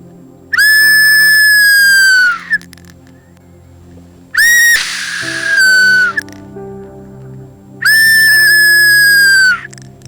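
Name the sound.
human whistling imitating a bird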